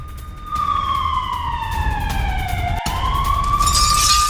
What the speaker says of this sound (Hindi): शेर यीशु इलाके में बज रहे हैं मिसाइल सायरन